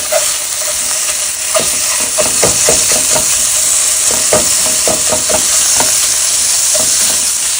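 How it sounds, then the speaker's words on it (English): Turkey sausage and onions fry in a pot for lasagna soup, a loud, close hissing sizzle with irregular clacks and scrapes of a spoon stirring through the meat. "Now I'm going to add half of the turkey sausage. Mix it up here."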